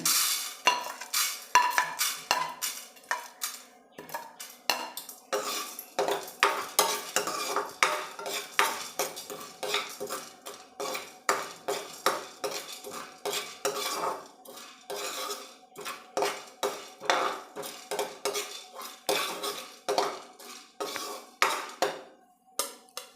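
Chana dal frying in a pan while being stirred, a long run of repeated metal spoon scrapes and clinks against the pan in an irregular rhythm over a soft sizzle, fairly quiet.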